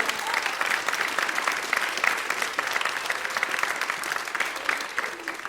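Enthusiastic clapping fills the room for a young performer after a third-grade school musical, a thick, continuous wash of applause that holds steady throughout.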